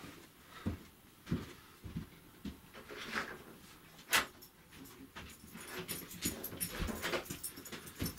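A pet dog being let inside a room whimpers and pants close by, with soft shuffling, a jangle and door sounds around it, no talking.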